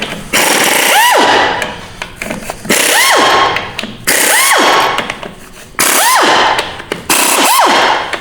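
A rattling socket wrench, 10 mm socket, removes the front pump bolts from a 4R100 transmission during teardown, five loud close ratcheting bursts in a steady rhythm, each ending with a short rising squeal.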